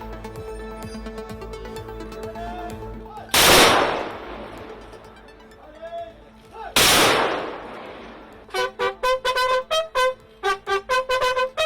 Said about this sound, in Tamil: துப்பாக்கி குண்டுகள் முழங்க தகனம்.